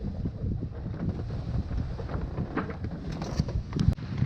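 Wind gusting across the mic aboard a Dazcat 1495 catamaran sailing two-handed offshore, a steady low buffeting roar with water and boat noise mixed in and a few sharper knocks near the end.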